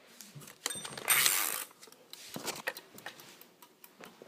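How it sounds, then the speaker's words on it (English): A microwave timer ticks with soft, irregular mechanical clicks, joined briefly by a louder rattling burst, all fairly quiet with no one speaking. "Timer, like the ticking of a timer."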